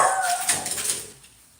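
A guard dog gives a brief, close whining yelp with a high tonal edge that fades out within about a second, leaving near silence.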